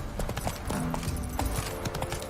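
Hooves of Roach, Geralt's horse in The Witcher 3, clopping in a steady trotting rhythm close by, with faint game ambience underneath.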